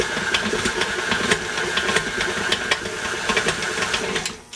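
Electric mixer whirring steadily as it finishes mixing thumbprint cookie dough after salt is added, a continuous close mechanical hum with rhythmic ticking that cuts off at the end, no talking.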